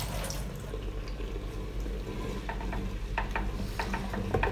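Masala for an egg and potato curry fries in a pan with a continuous close sizzle, broken by light crackles and spatula scrapes toward the end.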